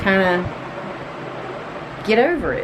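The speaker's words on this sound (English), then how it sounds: "excuse the fan noise" A fan runs indoors as a steady, even whooshing hiss beneath and between a woman's speech.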